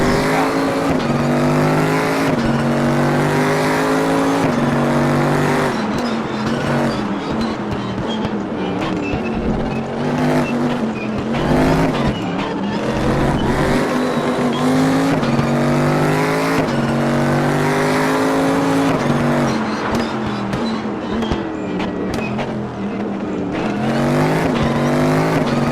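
A race car in RaceRoom Racing Experience revs hard and loud throughout, its engine pitch climbing and dropping with gear shifts, and brief tire squeals cut through in corners.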